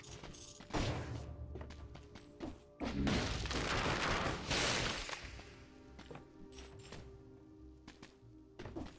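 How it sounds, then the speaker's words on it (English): Grenades dropped down a shaft explode in the video game Dead Cells, a cluster of loud booming thuds and crashes packed together in quick succession. "drop grenades"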